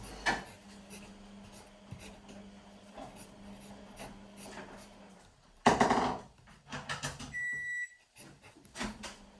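Pencil drawing on paper, a hexagon within a hexagon: soft scratchy strokes and taps come in short bursts with pauses, quiet overall, with one louder rubbing patch midway.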